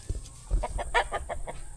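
Repeated clucking chicken calls from a rooster, a series of short harmonic bursts in steady rhythm, fairly close and moderately loud.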